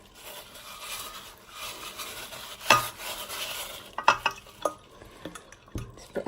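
Burnt-on baked beans being scrubbed from a saucepan after a soak, with scraping and rubbing strokes punctuated by a few sharp clinks of utensil on metal, close and fairly quiet.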